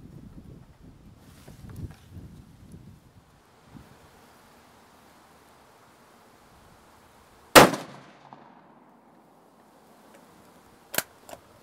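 Rifle shots from a shooting bench outdoors: one loud, sharp crack after soft rustling and wind, then a second fainter shot near the end.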